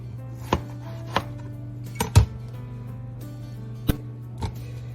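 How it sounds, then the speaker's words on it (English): Knife halving tomatoes on a cutting board for homemade salsa, with sharp irregular chops striking the board, about six distinct hits, over a low steady hum. "While I'm cutting the tomatoes"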